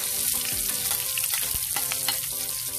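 Garlic and onion sizzle steadily in a hot pan while frying for a budget Filipino dish, with a few stirring scrapes and clatters, close and continuous with no talking.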